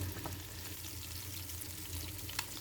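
Shing catfish frying in a pan with green chilies and chopped ginger, giving a steady close sizzle and crackle with a low hum underneath, continuous for a few seconds with no talking.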